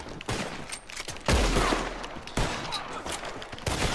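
Gunfire in Red Dead Redemption 2 Online cracks out in rapid, uneven bursts, with heavy blasts and echoing shots overlapping through the whole stretch.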